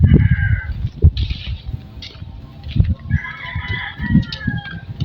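Several chickens cluck and squawk nearby while a rooster crows twice, with scratchy rustling and farmyard bustle throughout.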